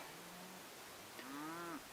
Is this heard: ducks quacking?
no